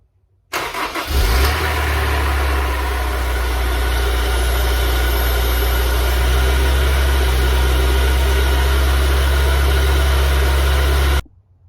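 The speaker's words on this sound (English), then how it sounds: "Let the car run for about 5 minutes, let the engine get warmed up" Honda S2000 engine starting and then idling while it warms up, a steady, close, moderately loud rumble that holds unchanged until it cuts off abruptly.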